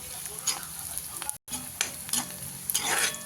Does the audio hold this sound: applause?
no